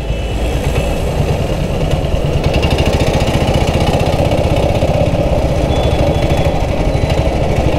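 A 1947 BSA BB31 vintage British motorcycle engine runs steadily and loudly nearby, with a fast, even single-cylinder thump that holds throughout.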